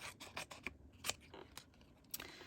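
Scissors trimming paper scraps in a series of quiet, close snips and crisp cuts with small rustles of paper between them, irregular in rhythm.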